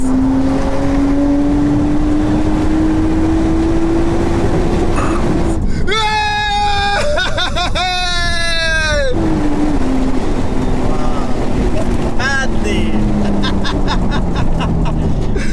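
BMW 530d (5 Series) at full throttle racing a Nissan R34 Skyline, its engine note climbing steadily, then a sudden harsh break in the revs as it misshifts before the drone resumes, loud and close with people talking over it.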